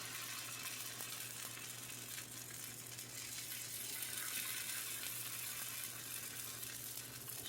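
Red lentil tortillas cooking in a pan, a soft steady sizzle and faint crackle over a low constant hum, close but quiet, with no talking.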